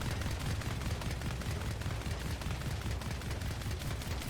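Bastion's DMR-style rifle fires in Overwatch, a rapid, steady stream of close, punchy shots rattling on without pause, no talking.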